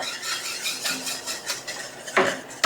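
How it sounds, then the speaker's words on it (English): A whisk scrapes and clinks against the bottom of a pot of heating milk for chocolate pudding, a run of quick metallic taps and rattles close up with no talking. "We're constantly using the whisk. Make sure we're touching the bottom so we don't have any scorched milk."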